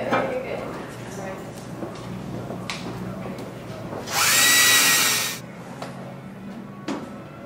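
A power drill drives screws into a board for mounting a staghorn fern, giving one loud high whirr lasting about a second beside scattered handling knocks while a person speaks.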